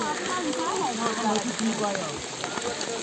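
Rain patters steadily through a pine forest on a mountain slope, a dense close hiss with scattered drops and faint voices or birdlike chirps mixed in across the whole stretch.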